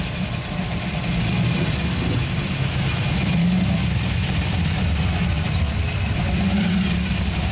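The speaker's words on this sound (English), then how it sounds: "Nothing like a blown Hemi." A supercharged Hemi engine idles at a car cruise event, a loud, rough, continuous low rumble with a lumpy throb, heard close and steady without talk.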